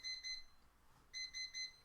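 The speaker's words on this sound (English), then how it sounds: "Looks like our timer went off." A quiet timer alarm beeps in quick high-pitched bursts: three rapid beeps, a short pause, then three more, sounding thin and somewhat distant against a silent background.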